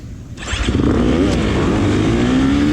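A 2023 KTM 350 XCF dirt bike launches at a race start, its engine leaping from idle into a loud, sustained rising rev close by, with other bikes roaring around it.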